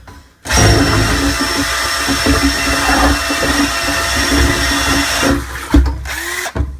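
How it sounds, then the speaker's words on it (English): A small Black & Decker battery drill fitted with a bit whirs steadily for several seconds, loud and close, stirring a thick mixture, then winds down with a few clunks at the end. "a little drill bit and a little cheap Black & Decker battery drill"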